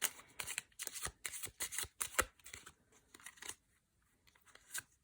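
Crisp riffling bursts of playing cards being shuffled, repeated several times in quick succession, close and clear with short pauses between.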